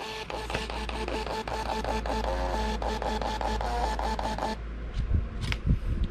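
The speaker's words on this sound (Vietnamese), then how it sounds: "Rồi bây giờ mình sẽ in cái hóa đơn bán hàng nha." A small Bluetooth thermal receipt printer (MTP3) whirs and chatters rapidly as it prints a sales receipt, a buzzing mechanical rattle that stops abruptly, followed by light handling noises.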